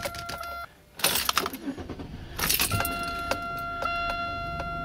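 A 2001 Buick Century being started, with keys jangling, an engine cranking and catching, then steady dashboard warning chimes repeating in a regular rhythm close by.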